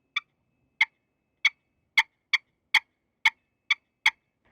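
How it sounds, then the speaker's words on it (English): A series of nine or ten short, crisp lower-pitched turkey clucks from a pot call, evenly spaced and close, with quiet between each note. "So that's a really important call to learn, is the cluck."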